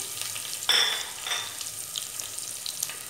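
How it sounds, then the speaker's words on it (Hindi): Black pepper and green chillies being stirred in a hot pan for tehri, a soft continuous sizzle with a sharper hiss and scrape near the start, close and moderately quiet. "मिक्स कर लेंगे। हरा मिर्च को डाल देंगे।"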